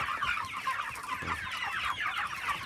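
Broiler chickens raised on corn cluck steadily as they feed, a dense overlapping chatter of many birds close by with no talk.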